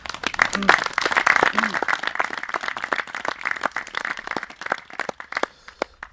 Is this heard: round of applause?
yes